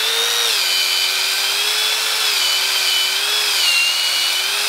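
A cordless drill with a weak, nearly dead battery spins a green 3M Scotch-Brite pad inside a rusty socket, giving a steady, close whirring motor whine whose pitch wavers as pressure changes, with a scrubbing rasp beneath.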